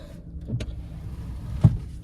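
The power seat motor of a 2025 Toyota Corolla LE gives a brief, faint electric whir inside the car cabin, over a low steady hum with one short bump near the end, and no talk.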